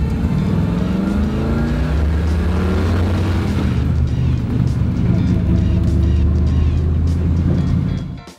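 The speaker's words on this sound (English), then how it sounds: "it is nothing but fun to shift gears in that car and wind it out." A Chevrolet Impala's engine revs and winds out through gear shifts. Its throaty roar rises in pitch, drops, then climbs again, loud and near, with a person talking over it at times.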